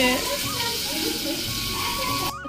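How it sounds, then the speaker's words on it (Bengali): Fish frying in hot oil, a steady hiss and crackle of spattering that runs close and fairly loud under a child's high-pitched voice, cutting off abruptly near the end. "মাছগুলো খুব ফাটছে বাবা, ভয় করছে"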